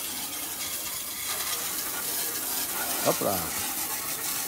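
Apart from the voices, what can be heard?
water rinsing a roof during roof cleaning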